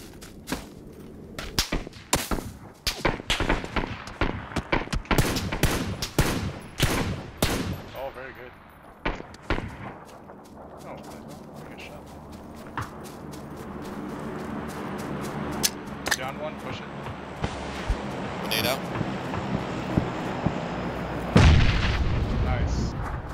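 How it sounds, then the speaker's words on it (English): Gunfire in the battle royale game PUBG: a rapid sequence of sharp shots and bursts cracks loudly at first, then thins out over a rising, steady background rumble, with one last heavy blast near the end. "Where are they shooting at?"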